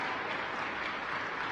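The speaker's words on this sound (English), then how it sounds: "Let's give the Marine Band another round of applause for that incredible rendition of our" Audience applause for the Marine Band after the national anthem at a White House event, a brief, even wash of clapping heard at a distance, soft and without talk.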